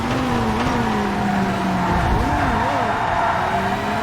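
Race car engine in TOCA Race Driver 3, a DTM series race, dropping in pitch under braking into a chicane, then revving back up with wavering tones, loud and close, with faint tire noise.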